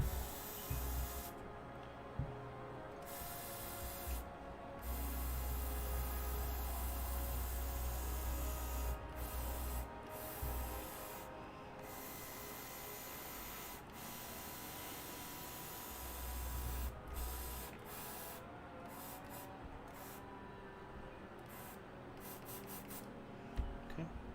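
An airbrush spraying ink onto tabletop terrain gives a faint, steady airy hiss, broken by short pauses and bursts of stop-start spraying, with a low compressor hum in the background.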